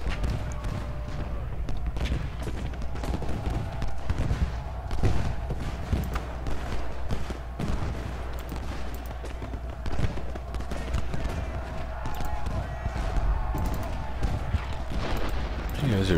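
Cannon and musket fire in the Ultimate General: Gettysburg video game, an ongoing crackle of scattered volleys and thuds over a low rumble, with a player talking over the battle sounds.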